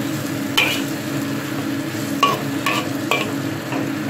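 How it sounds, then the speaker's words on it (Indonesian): Spice paste sautés in a pan with bay leaf and bruised lemongrass, a steady close sizzle broken by a few sharp scrapes of a stirring utensil, with no voices. "Kita tumis sampai wangi, sampai harum bumbunya"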